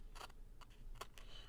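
Small scissors cut a washi sticker, giving a few short crisp snips spread over a second and a half, close and quiet over a steady hiss.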